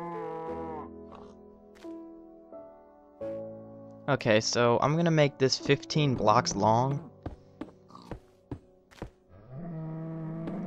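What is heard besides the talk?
cow mooing in Minecraft video game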